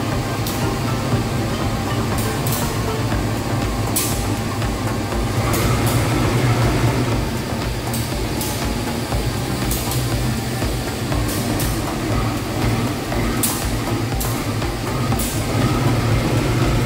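The Gumarang executive train runs on the rails near Semarang with a continuous loud rumble, punctuated by regular clacks as the wheels cross rail joints, and no voices.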